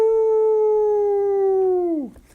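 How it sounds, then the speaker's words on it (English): A single wolf howl used as an audiobook sound effect, one long, loud, steady tone that holds and then drops sharply at the end, alone without talk. "Through the darkness he galloped, retracing the route he had just covered. Wolves howled at him."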